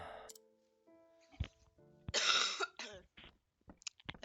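Ogen, an ailing character in Octopath Traveler, gives a rough, breathy cough that stands out clearly, mixed with scattered clicks and short game sounds in a quiet scene.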